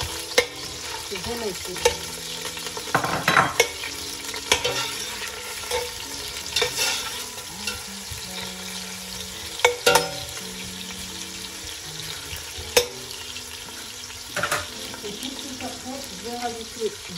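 Butter sizzling in a hot frying pan, a steady crackling hiss with scattered clinks and scrapes of a utensil, while a person speaks briefly.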